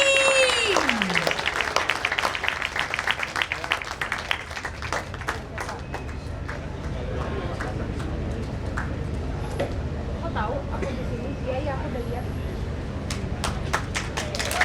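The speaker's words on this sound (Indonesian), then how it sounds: "tepuk tangan sekali lagi untuk Braga Jakarta Siring" Audience applause at an exhibition opening, steady clapping from a crowd that holds across the whole span alongside a rising tone and some voices.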